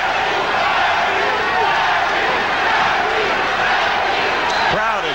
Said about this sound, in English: Some of them are chanting, Larry, Larry.